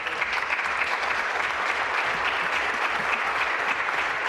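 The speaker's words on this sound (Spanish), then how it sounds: "Aplausos en una comparecencia ante la prensa" Applause at a press appearance after a Spanish political statement, a sustained, even patter of many hands clapping, moderately loud and slightly distant, with no speech over it.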